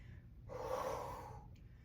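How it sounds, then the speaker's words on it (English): A single forceful exhale during the exertion of a kettlebell lift, a breathy rush of air lasting about a second, close and fairly quiet against low background noise. "you're breathing out on that exertion."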